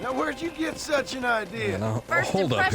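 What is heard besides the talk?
No distinct noise like a dog, phone or traffic.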